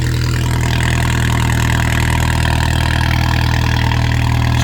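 Alfa Romeo 4C on a cold start with a GMS valved full exhaust and 200 cell high flow cat, idling with a steady, loud, deep rumble, close and continuous with no talk.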